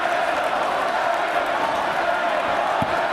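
Basketball arena crowd at Hilton Coliseum during a women's college game between Iowa State and Iowa, a steady broad roar of cheering and chatter sustained throughout.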